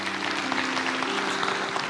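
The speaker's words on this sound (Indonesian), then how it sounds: "Kasih tepuk tangan untuk Tuhan Yesus." A church congregation claps for Jesus during a sermon, a brief even burst of applause filling the room, with a low sustained tone underneath.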